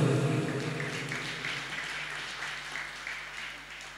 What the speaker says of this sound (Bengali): এবার জোরে হাততালি প্রভুর জন্য।